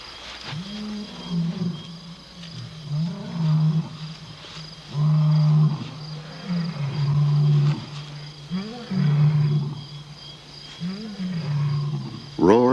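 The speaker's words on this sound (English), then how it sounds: "Roars in the night can mean danger for the pride. These come from a group of males" A group of male lions roars at night, a series of deep, drawn-out roars and grunting calls repeating in a rhythmic sequence, fairly close and strong, with brief gaps between bouts.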